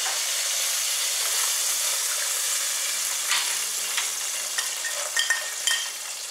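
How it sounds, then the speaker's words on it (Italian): A halved garlic clove and carrots fry in hot oil with a steady, bright sizzle and hiss. Faint stirring clicks and pops come through near the end, and no one speaks. "Una volta che l'olio comincia a riscaldarsi, mettiamo il nostro spicchio d'aglio sbucciato diviso in due e aggiungiamo le carote."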